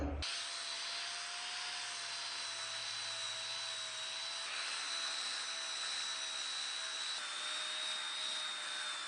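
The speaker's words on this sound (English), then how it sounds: "for this type of really aged board with a lot of grooves and stuff in it like that, I'm going to use this profile sander to clean it up" A profile sander runs steadily on an old, heavily grooved wood board, a loud continuous high whine with a thin tonal edge that holds unbroken from start to finish with no talk.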